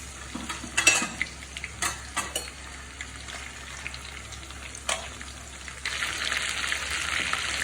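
Salted chicken pieces frying in a pan for a chicken roast, with a steady sizzle that swells louder near the end and sharp scrapes of stirring earlier on.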